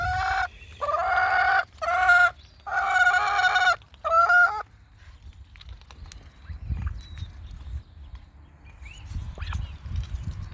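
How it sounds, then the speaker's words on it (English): A chicken gives four loud, close, harmonic squawking calls in quick succession, each about half a second long. Quieter low rumbling and handling noises follow for the rest of the stretch, with no speech. "chicken"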